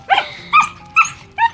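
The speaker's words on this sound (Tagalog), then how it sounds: "Grabe talaga din aking aso." A dog barks in four sharp, close bursts, evenly spaced, with a slight growling edge and quiet background in between.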